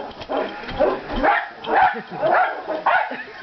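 A small dog yelps and whimpers after being stepped on, several sharp cries in a row, close and loud.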